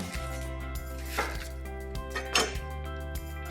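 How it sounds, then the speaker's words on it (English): A knife roughly chops a sweet yellow onion on a board for turkey stuffing, with a few soft, faint strikes spread across a quiet kitchen and no talk. "We're going to start by cutting a nice sweet yellow onion"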